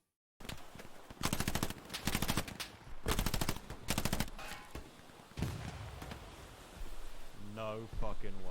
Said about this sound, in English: Just there is where that MG is firing from.